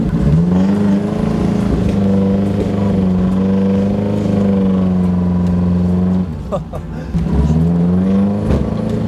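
A car engine drones loudly and steadily under strain while pulling down a fence with a rope, dipping briefly before rising again, with people talking over it.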